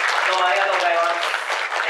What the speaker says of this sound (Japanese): やっと皆さんに拍手と言わなくても拍手していただきました。